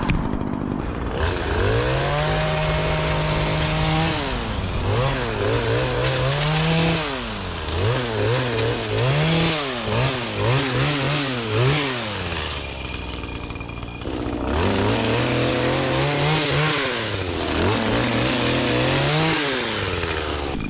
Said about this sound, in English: So I'm going to focus on getting the sides trimmed way back today.